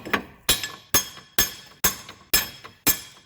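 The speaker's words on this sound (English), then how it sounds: "beat it with a hammer like a monkey" Seven sharp, ringing hammer blows on a 2006 Subaru Outback front axle part land at a steady, even pace, each one loud and close with a short metallic ring.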